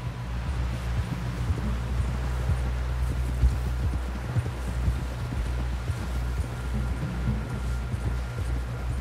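Horse hooves clop at a steady walking pace over a low rumbling background in Red Dead Redemption 2, with soft rustling and a few louder thuds, no voices present.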